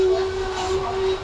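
Rumo freight train of more than 100 wagons loaded with soybeans, heard as a continuous rail rumble with a steady tonal whine or horn-like drone running throughout, close and fairly loud, with no talk.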